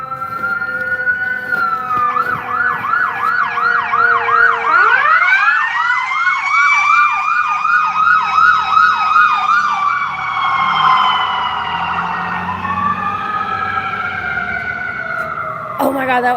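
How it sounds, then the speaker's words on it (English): A loud wailing fire truck or ambulance siren sweeps up and down, then switches to a fast yelp before easing off as it passes, with a low engine rumble beneath, during a street protest in Austin. "Sounds like a fire truck. Or ambulance."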